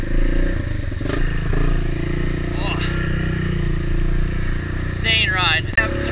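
Quad ATVs churn through deep flooded mud holes on a trail, with a loud, steady engine roar, splashing and clatter throughout and voices talking over the noise.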